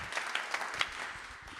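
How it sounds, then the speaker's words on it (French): Conference audience applauding, a brief patter of claps at moderate distance that fades after about a second. "Vous pouvez l'applaudir."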